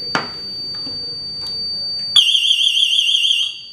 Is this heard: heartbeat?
no